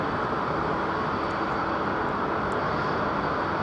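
A Virgin Boeing 787 Dreamliner departing Heathrow produces a steady, broad jet roar at moderate distance, even and unbroken for a few seconds with no speech.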